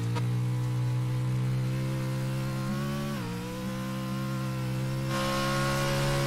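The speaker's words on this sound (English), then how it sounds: "Just listen to it, how high the revs are throughout most of the lap, because it's just wheel spin everywhere." A Pro4 off-road race truck at Crandon screams at sustained high revs with its wheels spinning, a loud, steady, buzzing engine whine that dips briefly in pitch midway and then holds on, with no talk over it.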